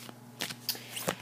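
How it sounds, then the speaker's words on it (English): Oracle cards shuffle in a quick, brief riffle of a few soft papery flutters, close and quiet, with no voices. "So let's shuffle the cards"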